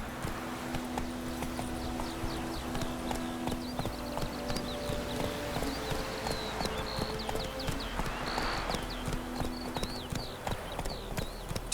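Roach the horse in The Witcher 3 trots with steady, rhythmic hoof clip-clops close by, carrying on throughout over a faint background hum and distant birdlike chirps.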